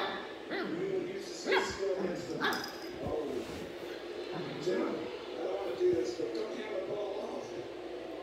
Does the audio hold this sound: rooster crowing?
no